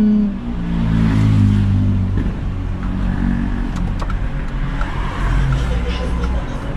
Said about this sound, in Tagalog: Oh, may sasakyan.